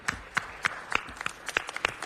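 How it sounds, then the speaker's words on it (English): A small group in a Los Angeles city council chamber claps for a departing official, a sparse scatter of distinct, fairly close hand claps at an irregular pace with no talking over them. "Come on, let's give her a real round of applause."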